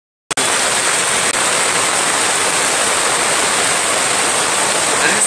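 Floodwater rushes over a road in Navi Mumbai during heavy rain, a loud, steady broadband roar that starts abruptly after a brief silence and continues unbroken, with no voices.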